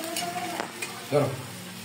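Crab fries in a pan with a steady sizzle. Stirring and scraping come and go, with a stronger flare of sizzling partway through, heard up close.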